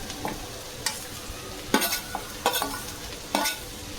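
Cabbage, corn and capsicum fry in a pan while a spatula stirs them, producing several sharp scraping strokes in uneven rhythm over a soft, steady sizzle.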